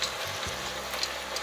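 Frozen peas and mixed vegetables cook in a pan for fried rice, making a soft, even sizzle that stays fairly quiet, with a light knock near the start.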